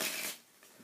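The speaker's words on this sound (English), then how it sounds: "So we're just going to start by shuffling up the cards" A standard deck of playing cards is shuffled up close, a brisk riffling burst for about a third of a second that fades into a few soft, faint card taps.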